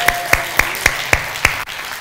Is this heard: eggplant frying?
no